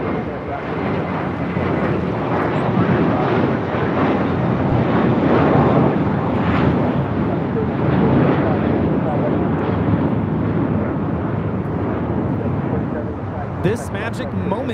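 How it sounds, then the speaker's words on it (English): A JetBlue Airbus A321, eight years old, taking off at LAX bound for Miami: a loud, steady broadband jet roar that swells and holds for the whole stretch, with voices talking over it. "This magic moment taking off to Miami. JetBlue 2785. It's an 8-year-old A321."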